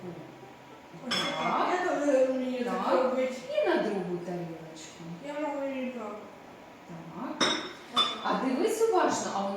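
Dishes and tableware clink and knock as a table covered with a cloth is being set during a lesson, a few sharp clinks scattered among steady talk from adults nearby.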